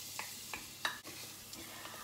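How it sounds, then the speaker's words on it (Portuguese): Pressed garlic sizzles in olive oil in a pan, with soft crackling frying and a few brief stirring scrapes close by, no talking. "em uma panela, vamos acrescentar azeite, vamos acrescentar o alho espremido"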